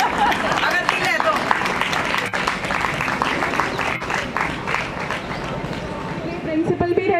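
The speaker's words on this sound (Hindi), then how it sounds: "ये भाई लोग भी तालियां बजा सकते हैं अगर दिल है तो।" An audience at a school retirement ceremony keeps up a brisk, continuous round of clapping, full and fairly loud throughout, fading slightly toward the end.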